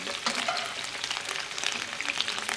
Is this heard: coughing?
no